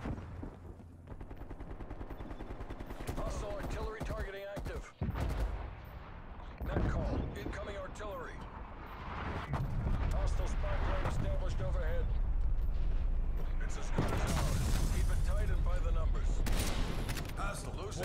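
Gunfire rattles through a Nuketown match in Call of Duty: Black Ops Cold War, loud and dense, with sniper shots mixed into continuous battle noise and players talking over it.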